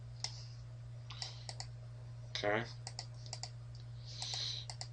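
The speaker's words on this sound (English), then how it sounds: "I'm using shortcuts on my keyboard." Keyboard shortcuts tapped on a computer keyboard while working in Photoshop, producing scattered quiet clicks in short bursts, with a brief spoken word in between over a low steady hum.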